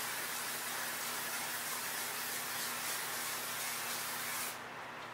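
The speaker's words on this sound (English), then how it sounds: "you need to spray your pan" A steady aerosol hiss of cooking spray on a pan for several seconds, close and continuous, cutting off near the end.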